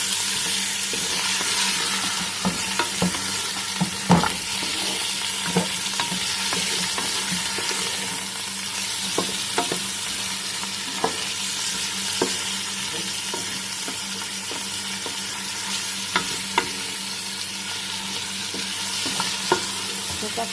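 Mutton browning in a pot for kulfa saag with spinach: a steady, close sizzle with scattered sharp clicks and scrapes as the meat is stirred, continuing throughout with no talking.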